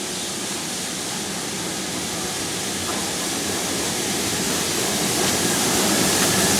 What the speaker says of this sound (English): But hopefully this train does stop at Country Park Halt